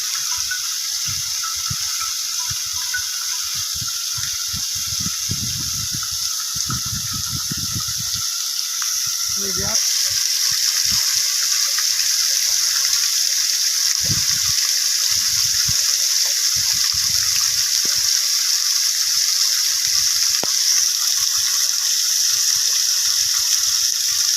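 Water gushes from a leaking drinking-water tank into a drain, a steady broad hiss that swells louder partway through, with a few faint knocks and voices briefly underneath.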